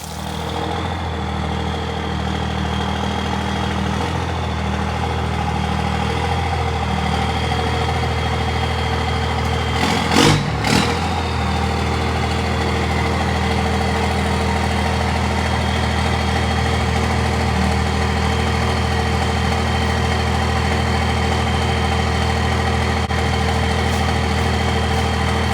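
A Mercury 25XD two-stroke outboard motor idles steadily and close by with a continuous low, buzzing drone, with a brief louder knock or bump partway through.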